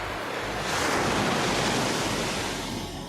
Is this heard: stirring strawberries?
no